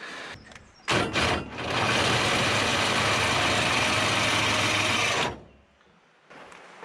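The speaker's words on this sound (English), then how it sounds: "battery drill is very handy" A battery drill with a socket spins inch bolts on a Hilux canopy crate, a brief double start then a steady whirring run of about four seconds close by, ending abruptly.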